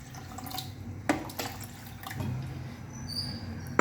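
Water poured into a glass while making a tamarind summer drink, about one and a half glasses, giving a steady splashing trickle with a few brief splashes, fairly quiet and close, with no talking.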